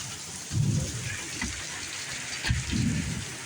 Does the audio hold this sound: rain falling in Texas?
yes